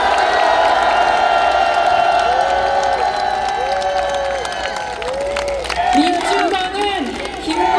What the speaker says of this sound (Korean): 다시 한번 큰 함성